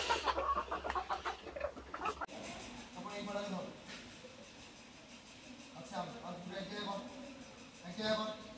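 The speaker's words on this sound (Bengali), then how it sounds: "মুরগিগুলো একটু খাওয়া দিয়ে দিচ্ছি" Domestic chickens clucking at feeding time on a household farm, with a louder burst of clucks at the start and softer, intermittent clucks continuing after, alongside some background talk.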